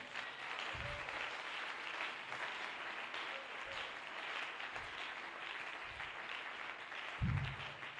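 Church congregation applauding and cheering in praise during a Sunday revival service, a steady dense wash of clapping that fills the whole stretch, with a few low thumps and no clear talk over it.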